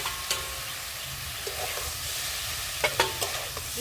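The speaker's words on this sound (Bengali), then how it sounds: "আগে থেকে যে সবজি আর কুমড়ো শাক ভাজা ছিল সেটা এবার দিয়ে দেবো।" Already-fried vegetables and pumpkin greens are stirred into oily cooked spices for a vegetarian chorchori. A soft, steady sizzle carries several sharp spoon-scrape clicks near the end, fairly quiet and with no voices.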